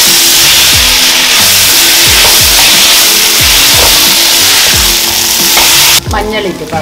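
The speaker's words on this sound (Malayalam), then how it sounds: "ഇതിലേക്ക് 2 തക്കാളി കട്ട് ചെയ്തത്, എരിവിനാവശ്യമായ പച്ചമുളക് എല്ലാം കൂടെ" Tomatoes and green chillies fry loudly in a pan for chicken biryani under a constant sizzle. A spoon scrapes and stirs in a steady repeating rhythm, with a clatter at the end.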